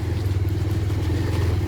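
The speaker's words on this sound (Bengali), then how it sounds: "বাইক নিয়ে রাইড করে যাচ্ছি" A motorcycle riding along a rough mountain road on the high pass route toward Leh–Ladakh, its engine giving a steady, close, continuous drone with a faint rattle throughout and no voices.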